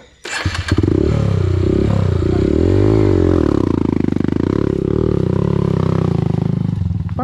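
A Honda CRF 150L dirt bike engine revs hard on a steep night trail climb in Batangas, close and loud, its pitch rising and falling as the throttle works, with clatter and thumps from the rough ground.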